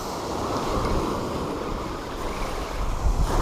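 Ocean surf washes steadily onto a beach, a continuous broadband roar with some wind rumble against the microphone, loud and close, with no voices.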